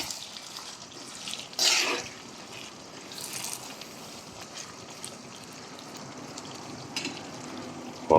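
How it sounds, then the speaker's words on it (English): Onions browning in a frying pan give a steady, soft sizzle throughout, with a brief louder burst of hiss early on. "We're gonna brown our onions."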